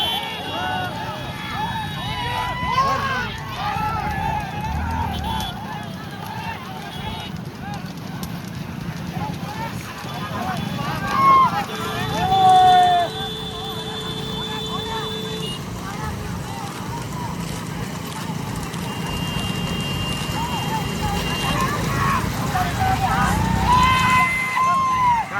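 Pairs of bullocks pull carts at a gallop in a village bullock cart race at Mahal Ainapur, their hooves clattering steadily through the stretch under loud commentary and crowd noise.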